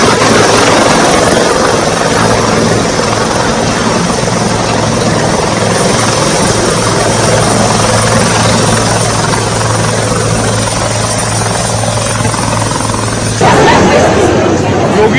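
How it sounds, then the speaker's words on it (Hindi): Helicopter landing on a helipad at a circuit house in Gorakhpur: a loud, steady rotor and engine roar runs throughout, with crowd chatter beneath and a shift in the noise near the end. "योगी का हेलीकॉप्टर गोरखपुर में हेलीपैड पर सर्किट हाउस में लैंड हुआ।"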